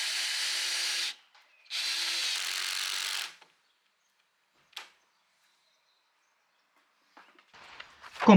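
A power drill drives fasteners through metal brackets to fix a chicken coop wall in place, giving two buzzing bursts of a few seconds each, followed by quiet, a brief knock and faint handling clatter.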